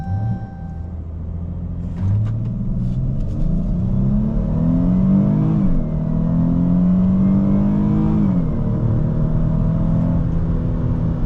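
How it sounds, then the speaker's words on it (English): A sports car launching from about 1800 rpm with launch control engaged: a loud close engine rumble that steps up and climbs through revving gear pulls with brief dips between shifts, sustained and without talk. "Definitely a way better launch that time. No wheel spin."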